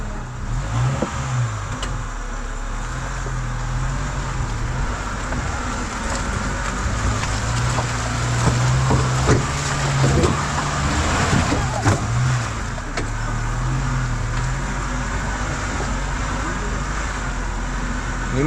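A vehicle grinds along a rough road near Sakleshpura with a continuous low engine drone and bumpy, rattling variation throughout, while people talk over it.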